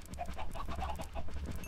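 Chickens clucking in the video game Minecraft, a run of soft rapid clucks close by over a low steady background hum.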